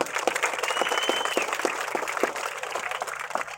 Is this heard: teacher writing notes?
no